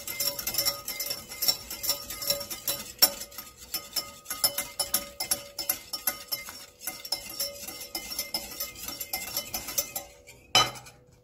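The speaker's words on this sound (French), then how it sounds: "Je mélange et je mélange." A spoon stirs warm water and salt in a glass or bowl for brioche dough, making rapid, rhythmic clinks and scrapes that sound close and moderately loud, ending with a sharper knock.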